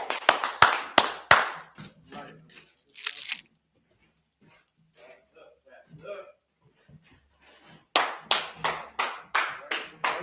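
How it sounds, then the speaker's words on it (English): A small audience at a church gathering claps in short bursts of quick, sharp claps, loud and close, at the start and again at the end. Scattered talk and handling noises fill the quieter middle. "Gonna clap it up for him."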